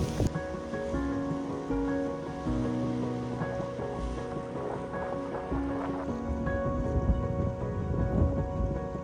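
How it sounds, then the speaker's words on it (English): Rain falls steadily outdoors on the Isle of Mull, a continuous wash of patter heard over a low background hum. "Sheltering from the rain."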